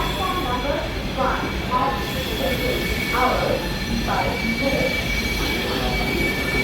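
A Vande Bharat express train rumbles steadily with a constant mechanical roar, and people talk over the noise.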